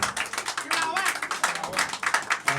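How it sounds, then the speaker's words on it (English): A crowd applauds with uneven bursts of clapping, moderately loud, with voices faintly underneath. "a big round of applause for the guy that made this very possible, Li"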